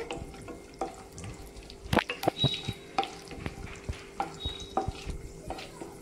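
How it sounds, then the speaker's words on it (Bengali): Cashews fry lightly in a pan, a soft sizzle broken by repeated clinks and scrapes of a spoon stirring against the metal, close by and with no speech. "কাজুটাও হালকা করে ভেজে নিতে হবে"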